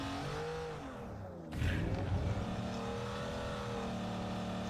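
A car in the mobile battle royale game BGMI revs and accelerates, its engine pitch sliding up and down before a burst of louder driving noise, alone without talk.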